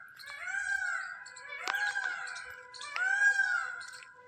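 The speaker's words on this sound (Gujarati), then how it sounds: "મોરલા બોલ્યા ને અમારા મોરલા બહુ ટહુકા કરે મસ્ત મજાના" Peacocks call nearby in three loud, drawn-out cries with rising and falling wails, spaced a second or so apart in quiet surroundings, with no one speaking.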